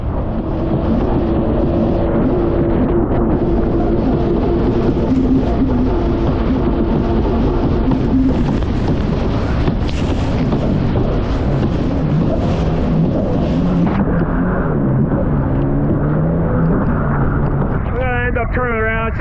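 Strong wind of 22 to 30 knots gusting across Barnegat Bay, New Jersey, a constant rough roar buffeting the microphone beneath someone talking throughout.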